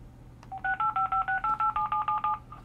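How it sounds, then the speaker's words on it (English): An AT&T DECT 6.0 cordless phone speed-dials a stored number from its directory, sending a quick, even run of about a dozen DTMF tone beeps, each short and clear, with no talking over them. "it will dial that number"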